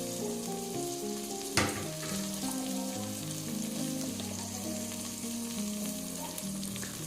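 Chicken masala with ginger garlic paste, coriander and mint fries in a pan, a steady close sizzle with stirring and scraping and one sharp clank of a utensil early on.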